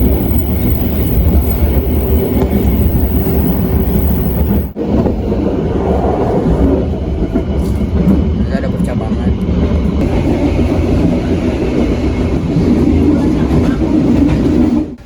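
Commuter train KA Bandung Raya running on rails between Cimahi and Bandung, a steady loud interior rumble with faint rhythmic clatter and a brief dip partway through, continuous throughout.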